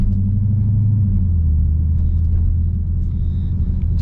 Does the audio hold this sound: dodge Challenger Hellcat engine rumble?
yes